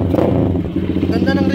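A motorcycle fitted with a flat-slide carburetor revs in quick, throaty bursts with a buzzy, harmonic engine note. Voices chatter nearby under the sound.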